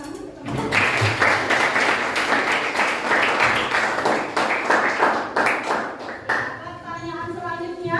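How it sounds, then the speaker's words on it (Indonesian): Students applaud a classmate during an Indonesian language lesson in a classroom, a loud burst of clapping that swells quickly, holds for several seconds, then fades as a voice begins speaking. "Silakan berikan tepuk tangan untuk teman-teman."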